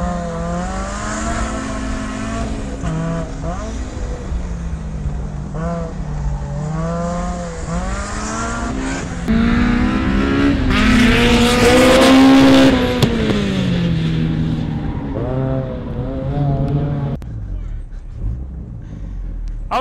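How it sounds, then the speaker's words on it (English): Racing on track with a K24-engined Mazda Miata chasing a supercharged Miata, in-car engine drone rising and falling through gear changes with a brief tire squeal, while people talk over it. "Oh, I hear that K24 right on my tail."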